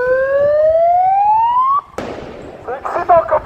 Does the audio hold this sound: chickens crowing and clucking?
no